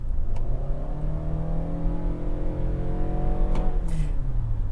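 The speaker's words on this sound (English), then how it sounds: "You're going to hear how loud this thing can get." A 2022 Toyota Sienna LE hybrid minivan accelerates hard, heard from inside as a steady rising engine drone with road noise, loud and continuous with no talk.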